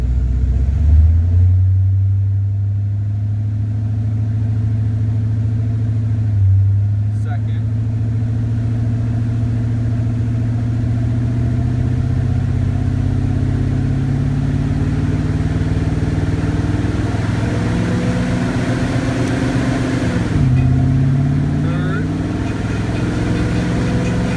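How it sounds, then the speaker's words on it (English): A 1993 Ford Mustang LX 5.0 L engine hums steadily, its pitch climbing and then dropping several times as it moves up through the gears to overdrive, with a rough rumble underneath from the driveshaft hitting a broken exhaust piece. "So I'm going to go through all gears, 1, 2, 3, overdrive right now."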